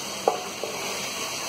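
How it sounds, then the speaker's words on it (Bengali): Garam masala is stirred into onion and tomato in a hot pan for Bengali mutton kosha, giving a steady close sizzle with a couple of brief spoon scrapes. "যতক্ষণ না মশলা থেকে তেল ছেড়ে বেরিয়ে আসে ততক্ষণ আমি এটা ভালো করে নাড়তে থাকবো"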